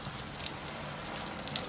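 Steady rain patters and hisses on a surface, a dense even drizzle with no voices.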